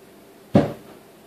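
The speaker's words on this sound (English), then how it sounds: "You can't slam the door, but I mean, you can shut them, but you can't slam it." A wooden cabinet door mounted above a refrigerator swings shut with a single soft, close thud, no slam, then a short fading rattle in a quiet room.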